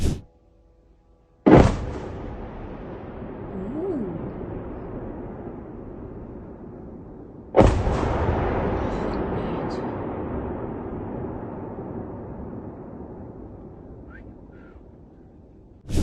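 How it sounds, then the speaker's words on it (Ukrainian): Two heavy distant blasts in Moscow Oblast during a drone attack, each a sudden loud boom followed by a long rumbling decay, with quiet before the first and another burst at the very end. "Звуки вибухів чули мешканці Зеленограду у Підмосков'ї."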